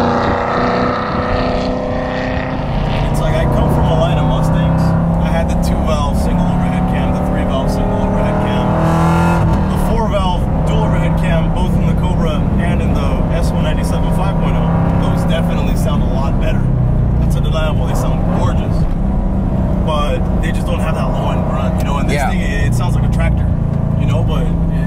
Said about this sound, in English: V8s are just V8s. You know, there's like power to it, depth to it. It's raucous.